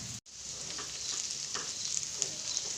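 Masala-coated okra frying in oil with onion makes a soft, continuous sizzle, with occasional stirring scrapes and light crackles over about three seconds, and nobody speaks.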